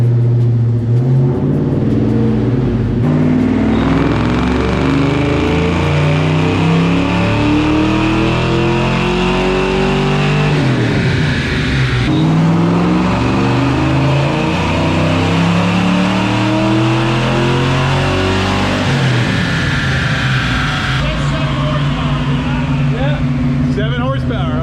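A Ford 302 V8 fitted with Trickflow heads, cam and intake roars on a dyno run, rising in pitch through several long sustained pulls with brief drops between, very loud and close, with people talking under it.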